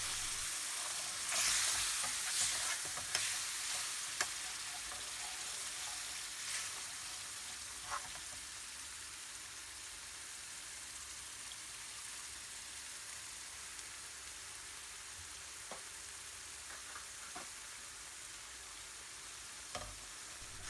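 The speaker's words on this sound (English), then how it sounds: "Stir in, then add the rest of the base gravy." Tomato slices and base gravy for a British Indian restaurant-style rogan josh sizzle softly in a pan, a faint steady crackle with a few sharper clicks from stirring early on, then settling.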